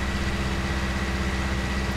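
Tractor engine idling in Farming Simulator 19, a steady low rumbling drone with even vibration throughout and no voice.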